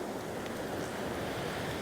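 Sea waves breaking on the beach at Southwold in Suffolk, a steady, soft washing roar of surf mixed with wind buffeting, no voices.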